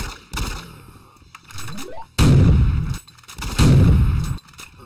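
Shotgun blasts in a Doom 3 mod game, several loud booming shots with sharp attacks and decaying tails, spaced apart, with smaller mechanical and whooshing game sounds between them.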